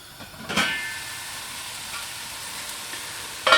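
Vegetables sweat in a lidded pan for a vegan nut roast, giving a soft, steady hiss with a couple of brief clinks or stirring scrapes near the start and end.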